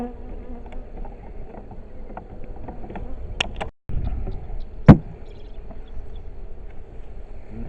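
Honey bees drone and buzz in a continuous low hum around open hives by a pond while supers are being added, with occasional close fly-bys, light knocks and handling sounds over the buzzing.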